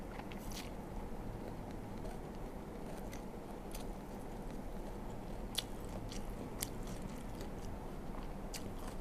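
People eat beef noodles, with soft, close biting and chewing sounds and occasional sharp crunchy clicks over a quiet background, no talking.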